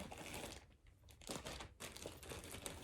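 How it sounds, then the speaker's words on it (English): Plastic bag crinkling close up, a steady rustle of dense crackling throughout with short breaks, fairly quiet overall. "Sorry for crinkling of the plastic bag."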